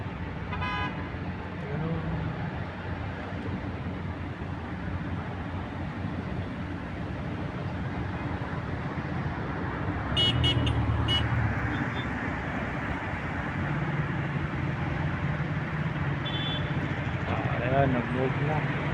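Steady city street traffic with engine rumble and a few short horn toots, a building construction area nearby, with people talking over it throughout.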